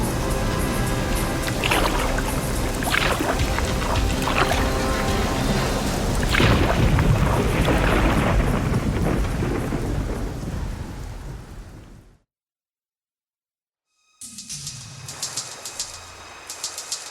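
Heavy rain pours steadily in a thunderstorm within an audio drama scene, with rolling thunder rumbles, loud and close, before cutting to silence and resuming as lighter rain.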